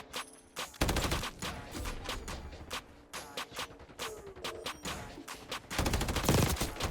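Rapid bursts of automatic rifle fire from a PML 556 in Black Ops 6 crack in dense clusters, near and loud, with brief pauses between volleys and no voices over them.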